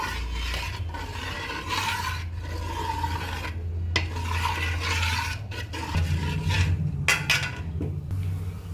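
A spoon scrapes and rubs around a pot while milk and rice are mixed into date palm juice for khejur rosher payesh, a rice pudding, giving repeated close rasping strokes with a low steady hum beneath.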